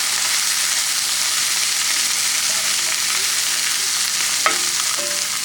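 Salt being stirred into a sizzling stir-fry of onion, wild burdock and wild milkweed, a steady loud frying hiss throughout with a few scraping utensil strokes near the end.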